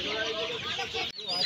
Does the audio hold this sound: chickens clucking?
yes